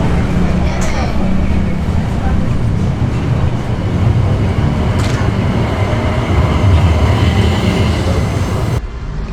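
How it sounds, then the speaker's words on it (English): A tram ride from Quatre Bornes toward Port Louis, Mauritius: a steady loud rumble of the rail car rolling along with faint squeals and rattles, talk mixing in, before the noise drops off near the end. "now we are going to take the tram here in Quatre Bornes to go to Port Louis"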